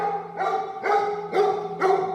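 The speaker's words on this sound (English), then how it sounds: "Probably hear my dog in the background, barking away." Dog barking four times in a steady, evenly spaced rhythm, clear and moderately loud, with no talking.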